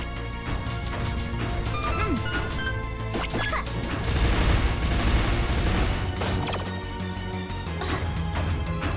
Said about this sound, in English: Okay, so the explosions do damage